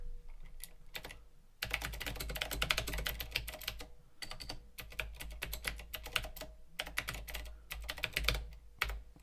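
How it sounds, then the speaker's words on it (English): Rapid typing on a modded VIC-20 computer keyboard, close and crisp, with dense bursts of key clicks broken by short pauses, plus a low steady hum underneath. "let's see if our keyboard works"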